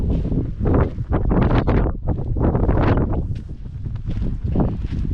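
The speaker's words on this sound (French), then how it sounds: "Il y a trop de vent, il fait trop froid." Strong cold wind on a beach at Barneville-Carteret, France, buffets the microphone in heavy, uneven gusts, roaring loudly and close with brief lulls between blasts.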